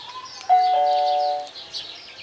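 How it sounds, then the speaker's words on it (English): Nest Hello video doorbell chiming once its button is pressed: a clean, close multi-tone ding-dong with sustained ringing notes lasting about a second, standing out over a quiet background. "someone's come to the door and rung the doorbell"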